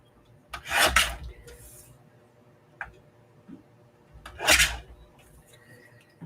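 A handsaw rasps through a piece of wood being trimmed by half an inch, making two short, close bursts of rough strokes with a faint tap between them.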